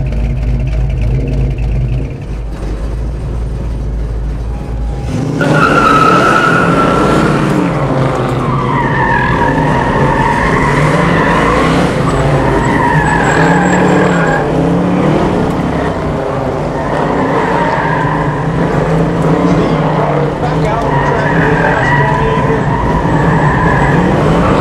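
A Mach I Super Cobra car's tires skid and squeal for a long, loud stretch as it drives, the screech wavering in pitch over a roaring engine, close and continuous.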